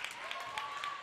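At a Vineland versus Millville high school girls' basketball game, someone claps in a steady rhythm, about four sharp claps, under a commentator's voice.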